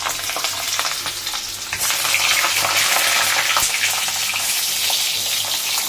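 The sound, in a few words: pointed gourd (potol) frying in hot oil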